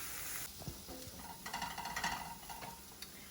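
Onions and mushrooms sizzling softly in a pan while being stirred, with faint scraping taps and a low crackle, quiet and close.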